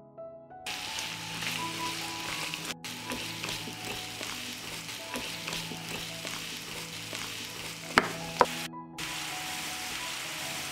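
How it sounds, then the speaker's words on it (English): Vegetables frying in a pan, with a strong, continuous sizzle, stirring scrapes and a couple of sharp clinks near the end, without talk. "I will fry the vegetables."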